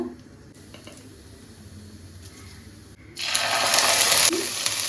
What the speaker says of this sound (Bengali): তেলটা একটু ঢেলে নেব তো কড়াইতে দিলাম দেখো প্রথম দুটো শুকনো লঙ্কা একটা তেজপাতা